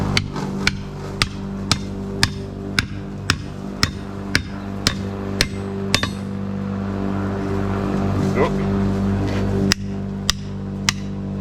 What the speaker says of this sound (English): start hammering this handle in